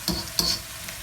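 A baghar tempering for besan karhi pakora fries in hot oil on full heat, giving two quick stirring sizzle bursts close by in about a second of sound.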